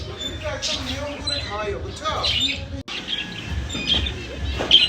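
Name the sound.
pet bird chirping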